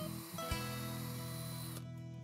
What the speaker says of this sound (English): Then drill pilot holes about 1 inch from each corner.